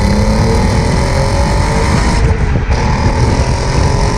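An Audi TT's 3.2 litre VR6 engine paired with a six-speed manual revs hard and loud with the pedal floored, a sustained close roar with rising pitch and a brief dip during a gear change.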